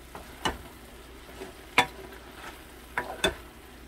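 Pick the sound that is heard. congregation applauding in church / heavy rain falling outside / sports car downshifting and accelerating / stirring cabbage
stirring cabbage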